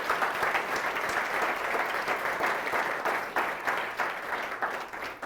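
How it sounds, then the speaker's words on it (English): An audience at an award ceremony applauds the nominees, with steady, dense clapping that continues throughout and thins slightly toward the end. "So give them a round of applause"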